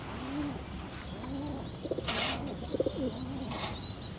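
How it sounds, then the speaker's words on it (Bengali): Pigeons coo in soft, repeated low calls near the microphone, with a few bursts of wing flapping as the birds take off, and faint chirps from other birds in the background. "তো কবুতরগুলা একটু আকাশে উড়ে আসুক"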